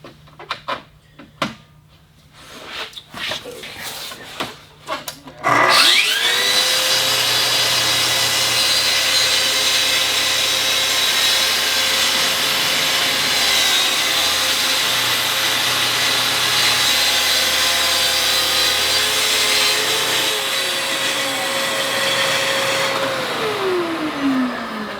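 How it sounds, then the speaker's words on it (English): A Festool track saw spins up and makes a plunge cut, a loud steady high-pitched whine with a droning motor and cutting noise held for about twenty seconds before winding down, after a few knocks and handling sounds. "Obviously when you're doing a plunge cut, you got to be careful to go slow so it doesn't like"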